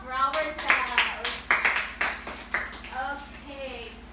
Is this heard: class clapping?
yes